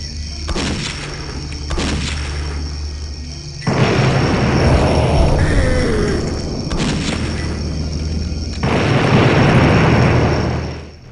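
Repeated dynamite explosions and blasts in an MS-DOS network multiplayer game, with sharp booming bursts at the start and near seven seconds over a steady rumbling din that swells after four seconds, loud and close.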